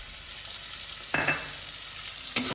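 Vegetables sizzle in a pan with freshly added dry-roasted ground coriander, cumin, dried chilli and whole garam masala for a paneer navratan curry, a steady close fry broken by two brief stirring bursts.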